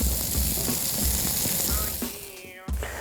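Food sizzling and frying in hot oil with a mayonnaise and egg coating, a steady crackling hiss with a brief clatter near the end, close and fairly loud.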